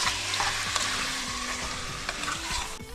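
Mutton pieces being stirred in a hot pan, a steady close sizzle of frying with repeated scraping and clinking of the spoon against the pan, no voices.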